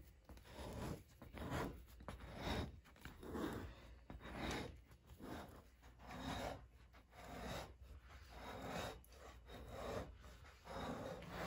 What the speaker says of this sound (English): put some pressure on it while you scrape